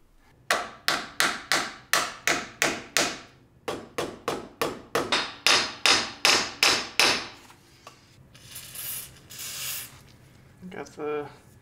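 A new axle pinion seal is driven into a Jeep YJ Dana 30 axle housing with a long run of evenly spaced, ringing hammer taps. Two steady bursts are followed by quieter handling noises.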